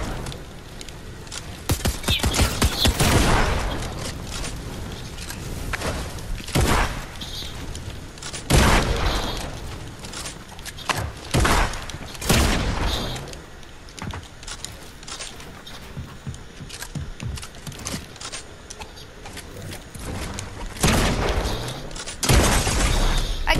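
Rapid, loud bursts of video game gunfire and explosive impacts come in clusters with brief lulls between, sharp and close throughout, no talking.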